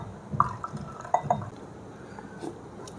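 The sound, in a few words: pouring water into masala buttermilk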